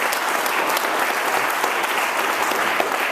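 Steady, enthusiastic applause from a sizable crowd at a charity fundraising event, loud and continuous throughout with no pauses.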